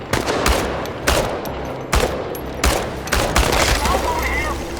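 Gunfire from the video game Chernobylite, with repeated bursts and volleys of shots at a steady loud level, separated by brief gaps and crossing over a continuous battle background.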